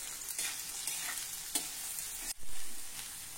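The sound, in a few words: onion frying in a pan while being stirred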